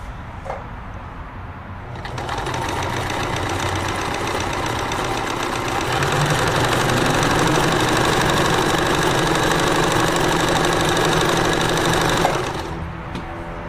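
Necchi 525FA sewing machine running a straight stitch through thick fabric, a fast steady mechanical whirr and needle rattle that starts, rises slightly in pace, and stops after about ten seconds, close and alone.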